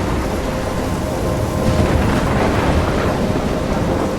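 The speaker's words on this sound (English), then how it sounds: "a storm?" In the Life Is Strange video game, a thunderstorm roars as a loud, dense wash of heavy rain and rumbling thunder that swells midway and fills the whole scene, with no talking.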